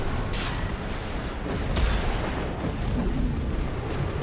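Bombing attack explosions in the mech game Armored Core VI: Fires of Rubicon, a dense, continuous roar of booms and rumbling blasts with sharp cracks near the start and middle, loud and sustained throughout.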